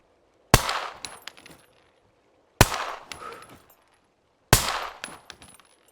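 Three loud, sharp gunshots from the survival game SCUM fire about two seconds apart, each cracking hard and then ringing out in a short metallic tail.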